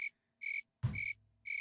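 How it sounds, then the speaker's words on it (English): Crickets chirping in short, evenly spaced bursts, loud and close, with a single low thump partway through. "Where are the crickets coming from, bro?"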